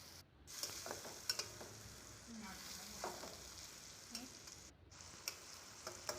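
Spice paste with ground cumin, coriander and chili paste sautéing in a pan, a faint steady sizzle with occasional soft stirring scrapes, quiet and close.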